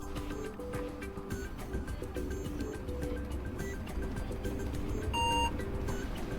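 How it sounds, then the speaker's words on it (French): A single short electronic beep from a Fujitsu Celsius computer at startup sounds near the end, rising clearly above a busy background of music-like tones and low rumble. "Quand vous entendez un bip, vous pouvez relâcher la touche"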